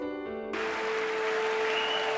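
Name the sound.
applause, standing ovation in Congress for President Bush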